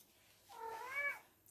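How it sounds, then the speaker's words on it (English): A single cat meow, drawn out and rising then falling over about a second, fairly close but soft, alone with no talk around it. "But I have a cat."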